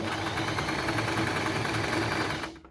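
A sewing machine stitches skirt fabric in one continuous close, loud run of fast needle hum that cuts off at the end.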